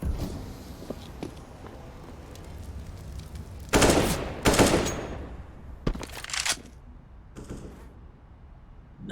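Desert Eagle pistol fire in a Counter-Strike match rings out in sharp, loud bursts, with several heavy shots clustered near the middle over a backdrop of footsteps and lighter clicks.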